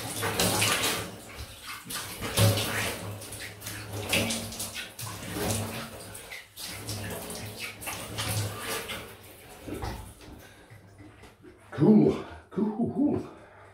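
Water runs and splashes from a tap while someone rinses off after shaving, a soft, uneven flow close by, with a few louder splashes toward the end.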